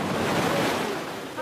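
Sea waves wash onto a sunny beach in a steady, loud rush of surf, with wind buffeting the microphone throughout and no clear voices.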